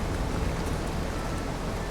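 Rain in The Caribou Trail video game pours down as a steady, full hiss of falling water, close and unbroken for the whole moment.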